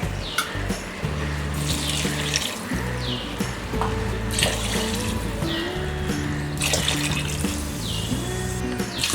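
Four cups of water run and splash steadily into a pot of rice for sweet corn pulao, with a continuous low hum and clinks underneath throughout.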